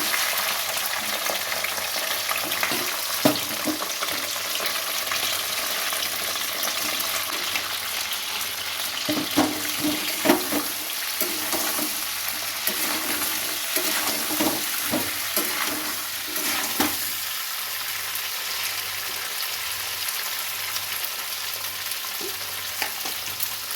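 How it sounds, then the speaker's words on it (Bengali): Crab pieces fry in hot oil in a wok for a Bengali crab curry, giving a steady crackling sizzle throughout with sharper spits and stirring clatters in the middle stretch, close and loud, with no voices. "এখন আমি কাঁকড়াগুলোকে হালকাভাবে ভেজে নেব"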